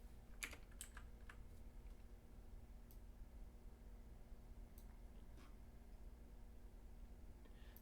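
Several quiet, scattered clicks of a computer keyboard being typed on, clustered near the start and then sparse, over a faint steady background hum.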